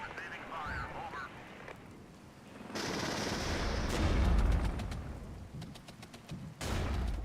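Machine-gun fire and bursts of shooting in the Cold War strategy video game Warpath, with crackling volleys, a swelling rumble of battle and sharp rapid shots near the end.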